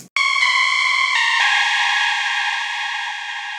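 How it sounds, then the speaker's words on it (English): A bright, high synth melody of a few held notes, made in Serum, rings out alone, washed in heavy reverb that lets each tone hang and fade. "a couple elements to be drenched in reverb to give the track that atmospheric feel"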